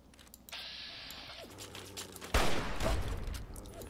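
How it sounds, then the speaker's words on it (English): Gunfire in the video game Fallout 3, aimed at the player, breaks out as a sudden loud burst of rapid shots after a quieter stretch of ambient game noise and continues in dense crackling volleys. "Oh, who's shooting at me?"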